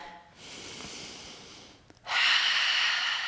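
Slow, audible yoga breaths during a power yoga flow: a long breathy exhale, a short pause with a faint catch, then a louder, stronger breath close to the mic, with no talking.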